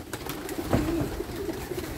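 Racing pigeons coo softly nearby, a low throaty murmur repeating over a background of faint rustling.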